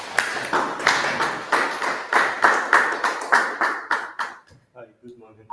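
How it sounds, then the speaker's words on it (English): Applause at a talk session on AWS certifications, heard as a rhythmic run of roughly a dozen evenly spaced claps, close and fairly loud, ending abruptly into quiet with a faint voice. "Please round of applause."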